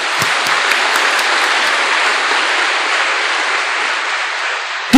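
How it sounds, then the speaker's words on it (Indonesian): Steady, dense applause from a large audience honouring the DPP at a religious gathering, sustained loudly for about five seconds before cutting off abruptly at the end. "Tepuk tangan untuk DPP."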